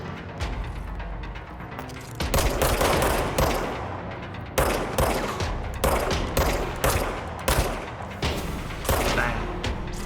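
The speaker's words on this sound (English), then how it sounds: "Are the gunshots loud enough?" Gunfire from the video game Control rattles in loud rapid bursts, dense volleys of shots with short pauses between them, close and dominant over the game's ambience.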